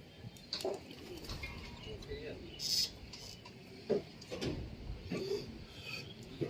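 Pigeons in a loft give scattered soft coos among other bird calls, with people talking nearby throughout.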